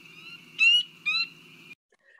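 A marsh frog call plays back from a recording: a droning, buzzy tone that swells into two louder pulses, then cuts off, leaving near silence.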